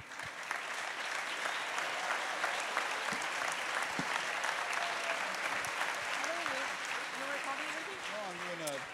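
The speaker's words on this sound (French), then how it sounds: "je voudrais que vous vous applaudissiez" Festival audience applauding steadily and loudly throughout, a dense continuous wash of clapping with a voice speaking over it near the end.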